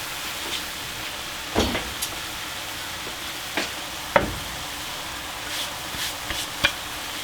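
Mushrooms hit a hot pan while pork and cabbage egg roll filling cooks, giving a steady soft sizzle broken by a few sharp crackles and pops.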